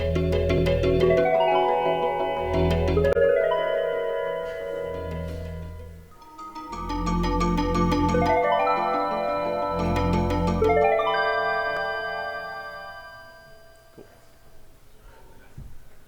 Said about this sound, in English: When you pause the game, it plays this little melody.